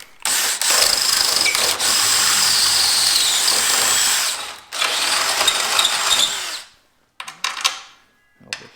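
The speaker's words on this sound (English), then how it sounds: "we're going to go ahead and drill those out. These ones with the 3/8 drill bit" A power drill with a 3/8-inch bit boring holes in a 1977 Ford F250 Super Duty truck frame, two long loud whining runs with a brief stop between, then short bursts and a quiet tail.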